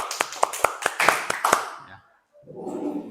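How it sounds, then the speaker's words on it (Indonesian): Hand claps in a Christian religious education lesson, about seven sharp separate claps over a second and a half, then a brief pause and a murmur of voices. "Oke, tepuk tangan dulu."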